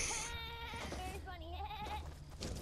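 A person imitates a goat with a wavering, nasal bleat during a Fortnite gaming session, the quavering voice fairly close and up front before trailing off into brief talk.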